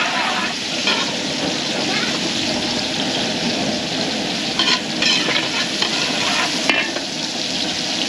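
Garlic sizzles steadily in hot cooking oil and butter, a loud continuous hiss close by with a few brief scraping stirs partway through.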